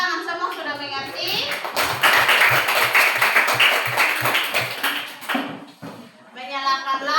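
A classroom of third-grade children claps hands together in a burst of fast, crisp, sustained clapping, with a teacher speaking just before and after.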